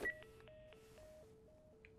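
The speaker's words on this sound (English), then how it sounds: "Pick up the phone again." Telephone keypad tones from a phone being dialed in the video game The Last of Us, a clean sequence of about eight evenly spaced dual-tone beeps, each roughly a quarter second, fairly quiet with no talking.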